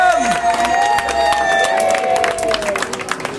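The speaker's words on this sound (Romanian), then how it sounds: "Haideți să-i aplaudăm și viață lungă să le urăm!" Guests at a baptism celebration break into applause, a dense burst of clapping with cheering from a crowd close by, while a musical tone and voices carry on underneath.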